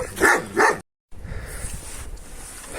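Two Kangal dogs trade a pair of loud, close barks in quick succession outdoors. After a short break, a quieter rustling background follows.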